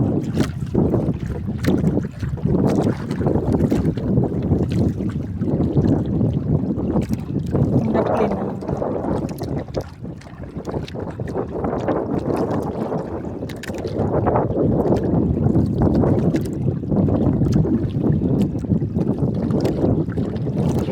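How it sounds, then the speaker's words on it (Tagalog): Heavy, continuous sea wind buffeting the microphone outdoors among seaweeds, with a loud low roar throughout, and a brief spoken phrase partway through. "Kinig sa video bitaw klaro kay hangin."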